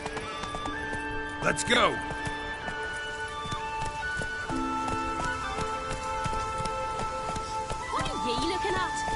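Horse hooves clip-clopping at a quick gallop in a video game set on rainy Skellige isles, with two whinnies and rain pattering, under a man's brief spoken line and game music.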